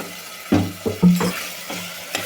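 Small tomato pieces frying with ginger garlic paste in a pan for potato curry: close, loud spatula stirs and scrapes in uneven bursts over a soft sizzle, with no talking.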